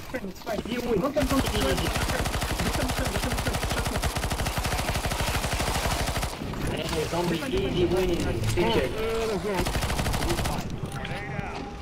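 Dense, rapid automatic gunfire from CS:GO Zombie Escape on the rooftop map, loud and nearly continuous with a brief pause midway, firing under excited shouting voices.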